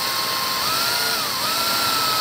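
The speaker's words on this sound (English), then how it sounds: "So we actually need to drill that out." A power drill runs steadily, drilling out heat-melted plastic rivets on a Ford Bronco, with a continuous whining motor tone that wavers slightly in pitch as the bit bites, close and fairly loud throughout.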